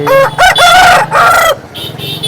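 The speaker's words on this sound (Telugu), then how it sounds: "కోడిపుంజులన్నీ ఇవే" A rooster at a weekly rooster market in Vijayawada crows loudly and close by in a long, drawn-out call, followed by quieter clucking and market background noise.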